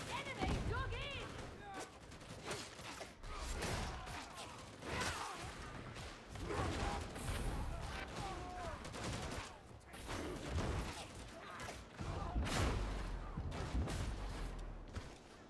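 Rapid gunfire, explosions and impacts from the video game Warhammer 40,000: Darktide, with a power sword and plasma gun in play, dense and continuous across the whole stretch, often over voices calling out.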